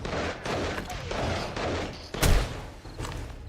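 Gunfire bursts in a video game, steady shots through the clip with one louder blast near the middle, close and dense with no talk.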